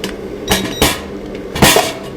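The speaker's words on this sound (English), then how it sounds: "For that, take out the oven" Metal oven tray pulled from a mini 3D sublimation vacuum heat press, giving several sharp clanks and scrapes in quick succession, close and fairly loud, with no talking.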